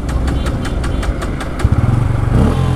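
A Bajaj Pulsar N160 motorcycle is cranked over with a rapid ticking starter, then catches into a loud, close, thumping idle with a steady pulsing beat.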